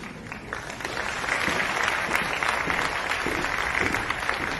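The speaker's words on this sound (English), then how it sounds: "let's have another round of applause for the 5th grade choir" Steady applause from a crowd for a 5th grade choir, a dense wash of clapping that swells after a second and holds, with faint voices mixed in.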